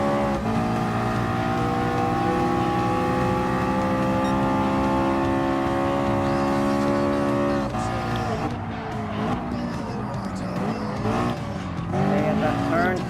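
A LaFerrari race car in Gran Turismo Sport, its engine holding a loud sustained high-revving whine, then shifting and rising again with tyre squeal, while someone talks over it.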